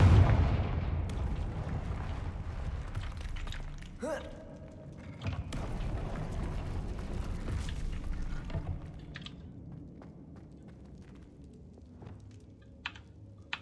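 A Confringo fire spell goes off in a wizarding video game with a sharp booming burst, followed by a lingering rumble and scattered crackles and thuds that fade over several seconds.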